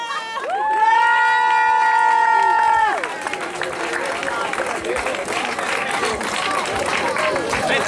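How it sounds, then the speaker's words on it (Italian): A crowd at a 4x4 off-road event, Al Veglio 4X4 2022, applauds and cheers loudly after a sustained shouted vocal tone, with busy babble and voices mixed in throughout. "Ancora un bel applauso."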